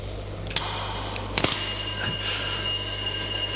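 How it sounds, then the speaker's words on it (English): An alarm bell at the SAQ Grimeton longwave radio station rings steadily in a machine hall, sounding over the constant drone of running machinery and a low electrical hum, after a few brief clanks. "Then you can hear an alarm bell ringing."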